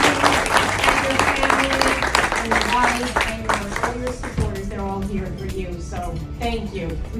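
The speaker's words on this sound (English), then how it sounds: "you really deserve the round of applause" Guests at a cancer foundation golf outing applaud, the clapping overlapped by voices speaking and what sounds like tonal background music, fading gradually.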